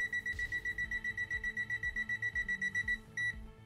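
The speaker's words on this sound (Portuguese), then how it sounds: "ele vai aparecer essa linha tracejada no display e emitir este bip." A rapid string of high electronic beeps from an Aneng Q1 multimeter's non-contact voltage detector pulses steadily for about three seconds, pauses briefly, then sounds once more before stopping.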